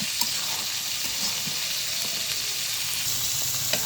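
Chicken with mustard paste and spices sautéing in a pan, a steady close sizzle with faint scraping of stirring and a few light clicks.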